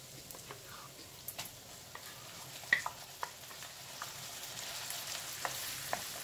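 Garlic fries in a pan while being stirred slowly, a faint steady sizzle with occasional soft scrapes and light taps, quiet and close.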